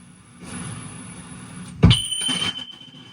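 A Clarion PT-975C cassette stereo from a Mazda RX-7 plays a 10 kHz test tone with audible flutter, running slightly fast. A thump leads into a steady, thin high tone over background hiss.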